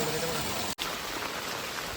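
Steady night rain hisses across the whole clip in the Konkan countryside, with a brief dropout near the start before the downpour continues evenly.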